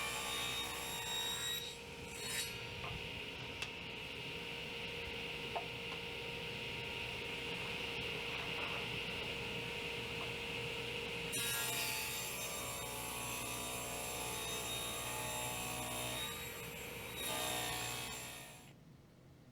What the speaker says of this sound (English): I'm cutting these 2 inches wide, and the wood I'm using is basswood, and I will be cutting 4 of these.